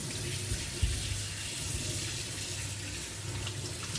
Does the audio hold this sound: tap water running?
yes